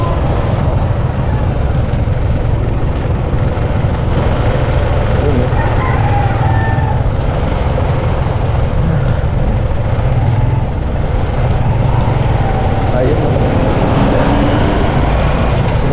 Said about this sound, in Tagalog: Grabe talagang traffic.